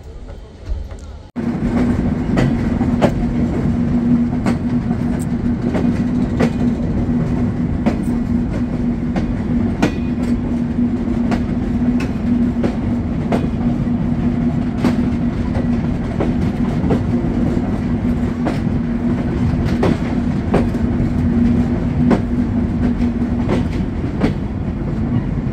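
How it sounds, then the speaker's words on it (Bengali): The Benapole Express train rolling into Kotchandpur railway station, a loud steady rumble with a sustained tonal hum and regular clicking wheel beats on the rails, heard close from aboard after a brief quieter opening. "ট্রেনটি প্রবেশ করলো তার 4 নম্বর যাত্রাবিরতি স্টেশন কোটচাঁদপুর রেলওয়ে স্টেশনে।"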